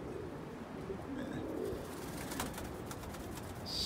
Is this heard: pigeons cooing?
yes